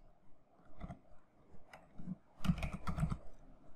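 Soft, close keystrokes on a computer keyboard as a file name is typed: a few scattered taps, then a quicker cluster of clicks near the end, in a quiet room.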